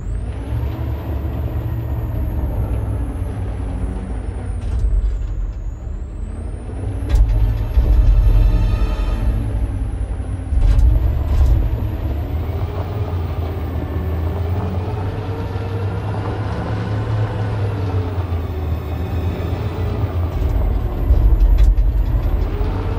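A truck driving in Detroit: Become Human, a heavy low engine rumble that swells and eases steadily under a constant high electronic whine, with occasional hiss-like air brake bursts.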